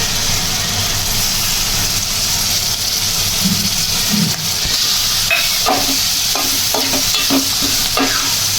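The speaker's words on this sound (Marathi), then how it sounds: "आता याच्यामध्ये आपण कालवं टाकायला घेऊ" Oysters gathered from mudflats fry in spicy masala in a pan, giving a loud, constant sizzle up close, with a run of rhythmic scraping stirs toward the end and no talking.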